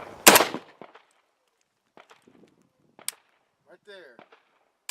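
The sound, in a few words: AK rifle trigger reset click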